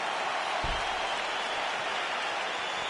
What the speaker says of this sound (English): So a nice pop from the crowd as that decision is made.